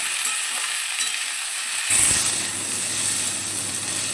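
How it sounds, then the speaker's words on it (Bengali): Potato and cauliflower pieces frying in hot oil as they are stirred, a steady close sizzle that swells with a scraping stir partway through, with no talking. "আলু এবং ফুলকপিটা তেলের মধ্যে খুব ভালো করে ভেজে নেব।"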